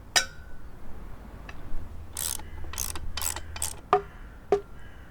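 Wooden fence gate parts being screwed together, heard as several short bursts of a drill or driver with a couple of sharp clicks in between, close and alone with no talk.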